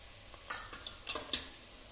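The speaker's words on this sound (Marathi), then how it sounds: "मिरची पावडर तेलात टाकल्यावर तरी छान येते" Homemade red chili powder fries in oil for a Maharashtrian egg curry. A faint, close sizzle comes with a few quick stirring scrapes and taps.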